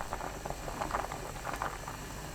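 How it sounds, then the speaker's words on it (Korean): Egg soup with napa cabbage boiling hard in a covered pot over high heat, a continuous bubbling and popping with occasional louder bursts, close and steady, no voices. "팔팔 끓으면 중불로 낮추고 3분 더 끓입니다."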